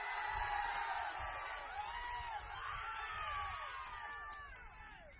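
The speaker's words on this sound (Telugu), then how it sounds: "గట్టిగా చప్పట్లు కొట్టాలి స్వామి." A large crowd at a political rally whoops and cheers continuously, a far-off roar with shrill whistles and rising shouts filling the air throughout, clapping hard to pick out.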